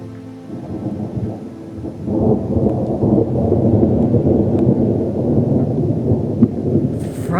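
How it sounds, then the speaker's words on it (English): A sudden, frightening thunderstorm on the Santa Fe Trail, with steady heavy rain and a deep rolling rumble of thunder that swells and stays loud throughout, with no voices. "Frightening thunderstorms came up suddenly."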